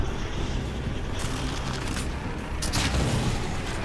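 Gunfire and heavy booms from The Evil Within on Xbox One, with a shotgun and bolts in use against an enemy, come as dense repeated blasts over a rumbling, noisy game soundscape.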